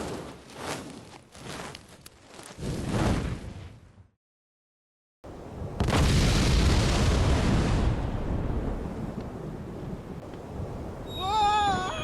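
A bomb going off in the Monkey Island 2 Special Edition adventure game: a loud, deep burst that cuts to silence, followed by a sustained roaring rumble and a short warbling tone at the end.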